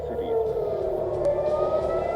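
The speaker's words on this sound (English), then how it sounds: "Sirens scream across cities." A wailing air raid siren in Israel during an Iranian ballistic missile attack holds a steady tone in the distance, with faint voices underneath.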